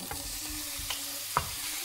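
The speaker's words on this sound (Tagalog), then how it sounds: "Kaya ito muna, i-prito ko muna ng konti." Oil sizzles steadily in a pan as food is fried and stirred for pork adobo, with soft scraping strokes of the spatula every half second or so, close and even.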